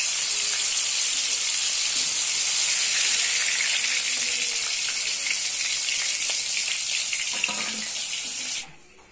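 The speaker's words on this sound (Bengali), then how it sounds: "অল্প অল্প করে সয়াবিন সাদা তেলে লাল লাল করে ভেজে নেব।" Soybean chunks fry in white oil with a loud, dense, continuous sizzle and hiss close by, cutting off abruptly near the end; no talking.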